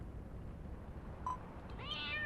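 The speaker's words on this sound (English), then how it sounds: "Oh, just a kitty, huh?" A cat meows in Dragon Quest Builders 2, one short rising meow over a low steady game background hum, close and fairly clear.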